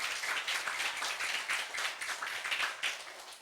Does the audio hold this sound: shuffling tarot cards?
no